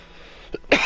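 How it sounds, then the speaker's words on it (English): A person gives a short throat-clearing cough followed by a louder, harsh cough, both close and alone over faint background hiss, tied to allergies and a lung infection. "Sorry for the coughing."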